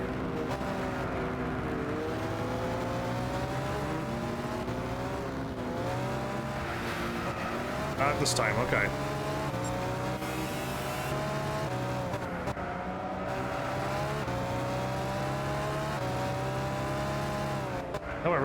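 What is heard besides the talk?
race car engine accelerating in Gran Turismo 6 video game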